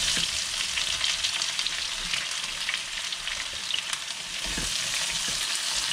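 Sliced onions fry in oil in a pan for turkey masala, a steady broadband sizzle running the whole way with a few soft clinks of stirring, close and moderately loud with no voices.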